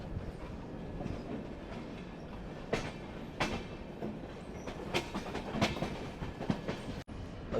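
A train rolls into Kollam railway station with a soft rumble of moving carriages, scattered clanks and clickety-clack wheel knocks over steady background noise, heard from on board.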